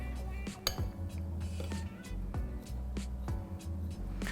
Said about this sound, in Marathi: आता हे सगळं मिक्स करूया